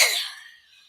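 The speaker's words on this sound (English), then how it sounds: "So he's got a bit of a cough if you hear him coughing in the background" A boy coughs in the background, one short harsh burst that trails off quickly, faint and somewhat distant with no talking.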